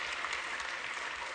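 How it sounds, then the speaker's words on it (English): Dense audience applause fills a plenary hall at a global sustainable development festival, a steady, close wash of many hands clapping with no talk over it. "We can clap for that."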